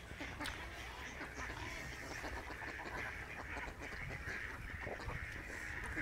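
A flock of Itik Pinas ducks on a farm quack and honk together in a dense, continuous chorus that holds at an even level throughout.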